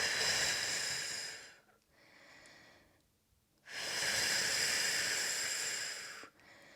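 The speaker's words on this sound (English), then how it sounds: "One more breath." Deep, slow breaths during a seated yoga twist, two long loud exhalations with a quieter inhale between, close and breathy with no talk.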